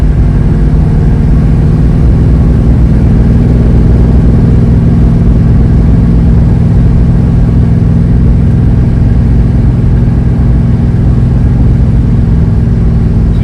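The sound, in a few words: 1967 Dodge Coronet engine driving on a back road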